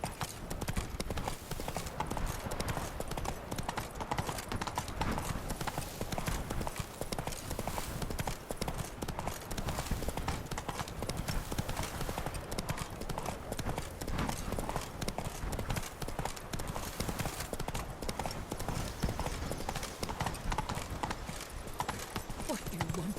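Roach, a horse in The Witcher 3: Wild Hunt Blood and Wine, trots with steady, continuous clip-clopping hooves close by, with occasional faint voice sounds beneath the hoofbeats.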